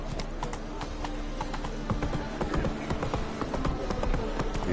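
Rapid, continuous hoofbeats of a galloping horse pound close and steady for several seconds, a dense rhythmic clatter over a low rumbling background.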